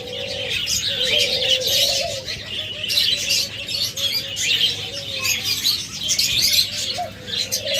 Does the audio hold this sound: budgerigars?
yes